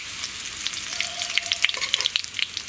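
Mustard seeds crackle and pop with curry leaves sizzling in hot oil, a steady frying hiss broken by sharp irregular pops close by, with no talking.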